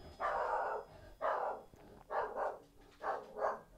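A dog barks in four loud, separate bursts at a doorbell ringing indoors, each bark close and full, with short quiet gaps between them.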